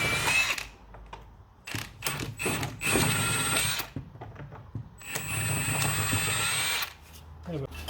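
Power tool bursts work a 17mm bolt loose on a Ford P100 pickup, several loud whirring runs separated by short pauses, with a voice speaking briefly between them.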